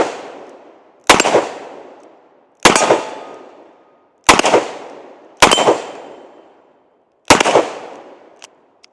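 A Ruger GP100 revolver with a six-inch barrel fires .357 Magnum rounds, five sharp, loud, close shots spaced about a second or two apart, each followed by a ringing decay.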